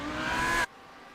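A GT Am race car on the Barcelona track in a racing video game screams at high revs for about half a second, then cuts off abruptly, leaving only faint background.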